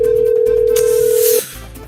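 A loud steady telephone ringing tone sounds while a call is being placed, holding one pitch for over a second before cutting off into quieter background noise.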